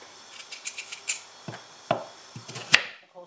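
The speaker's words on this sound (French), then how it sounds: "On va aussi découper nos carottes" A knife chops carrots on a cutting board, a quick series of close, crisp knocks in uneven rhythm, ending with one sharper louder strike.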